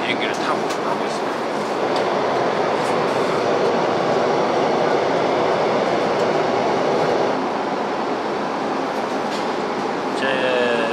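A loud, steady rumbling roar fills the whole clip, dense and unbroken, inside an airplane cabin just after takeoff, with no clear voices on top.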